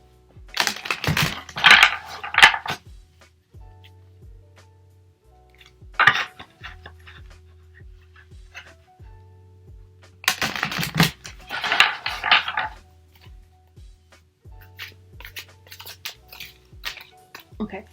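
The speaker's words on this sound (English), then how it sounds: "I'm just going to start shuffling the cards" Tarot cards being shuffled in bursts of papery flutter and tapping, separated by pauses with a low steady hum underneath, fairly close.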